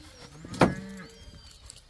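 A cow gives a single short moo at moderate distance on the Iberá wetlands during a dorado fishing outing, rising out of quiet outdoor background.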